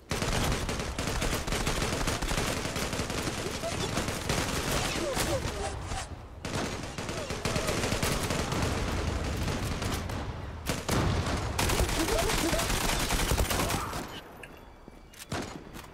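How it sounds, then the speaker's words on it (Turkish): Rapid gunfire rattles out in dense, sustained bursts as a full magazine is emptied, loud and continuous with brief pauses, and a voice is heard among the shots. "Bütün mermiyi alana boşalttım"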